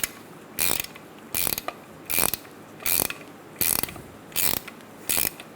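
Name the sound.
ratchet tightening Nissan Altima strut mount nut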